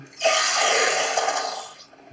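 A leaking toilet cistern: a rushing, gurgling flow of water with a hollow tone, rising quickly and fading out after about two seconds.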